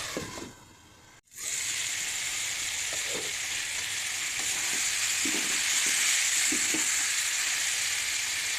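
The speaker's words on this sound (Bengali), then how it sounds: "মাংসটা ভালো মতন কষিয়ে নেব।" Chicken meat, a free-range country bird, sizzles as it sautés in a pan, a steady hiss that starts abruptly and carries on with a few soft stirring scrapes underneath.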